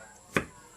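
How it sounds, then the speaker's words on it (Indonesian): A knife slices through galangal in a single crisp cut, close and quiet, with a faint background hum around it. "Ini dia galasa, kita iris begini macam iris bawang"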